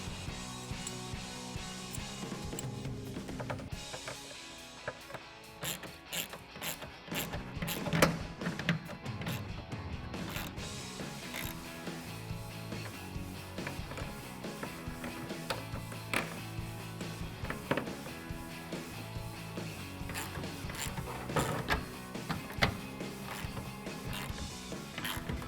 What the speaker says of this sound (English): tighten it down with your ratchet